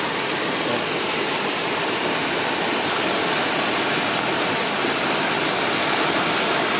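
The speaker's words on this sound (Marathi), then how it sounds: "पळय आता स्पीड पळय उदकाची कितली आहा" Rushing floodwater of the swollen Mhadai river in North Goa during heavy monsoon rain, a loud, dense, unbroken roar of churning water that holds steady throughout with no voices.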